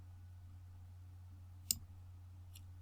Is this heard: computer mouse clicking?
yes